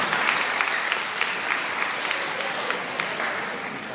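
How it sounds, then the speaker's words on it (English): Sustained audience applause at a senior high school commencement ceremony, a dense, even roar of many hands clapping that stays loud throughout. "Let us give them a round of applause."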